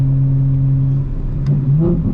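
A 2025 BMW M4 Competition xDrive engine holding a steady drone after a downshift in the rain, then lifting slightly with a brief rise in revs, heard from inside the car.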